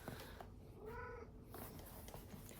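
A cat in a home gives one drawn-out, wavering meow close to the microphone, fairly quiet against low room noise, with nobody talking.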